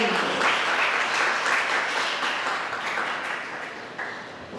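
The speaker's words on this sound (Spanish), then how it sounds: "recibimos con un fuerte aplauso a este escenario a Raúl Eduardo Benítez." Applause from a conference audience greets a speaker coming onstage at a science and technology event, a dense, sustained round of clapping that gradually thins and fades over a few seconds.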